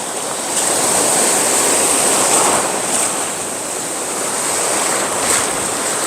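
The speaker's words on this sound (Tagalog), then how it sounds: "Lakas ng alon." Strong sea waves crash and wash continuously at a beach, a loud, steady roar of surf with gusty wind buffeting the microphone.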